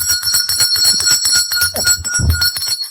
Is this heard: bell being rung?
yes